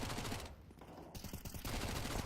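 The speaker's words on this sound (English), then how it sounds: "Lots of gunfire" Rapid bursts of gunfire trading back and forth in a Counter-Strike style shooter match, fairly close and continuous, with a brief lull midway before the firing resumes under a steady background mix.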